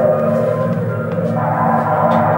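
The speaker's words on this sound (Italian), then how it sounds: "Questo vento che sentite è un vento elettronico." Electronic wind sound effect from a 1950s Italian documentary: a steady, continuous whooshing drone with faint shifting gusts, held at an even level throughout without any voices.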